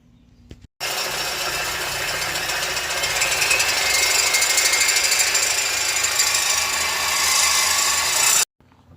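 A loud, continuous power tool rattles hard for about eight seconds while cutting off a car's tailpipe, starting and stopping abruptly, close by with no talking.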